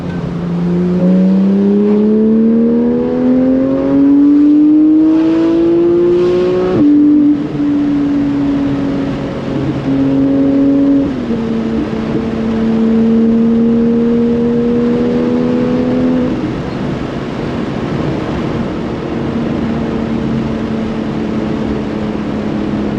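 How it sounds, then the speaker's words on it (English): A Porsche GT3 exhaust roars loudly on a track as the car accelerates hard. The pitch climbs steadily to an abrupt gear change, then the exhaust settles into steadier high-speed cruising tones with further small shifts. It is heard close-up with no talking. "Hear the exhaust?"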